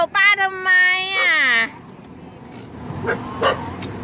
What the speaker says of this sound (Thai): เห่าป้าทำไมอ่ะ